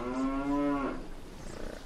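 A single cow gives one long, loud moo close by, with a rough tail-off and a quiet stretch after it.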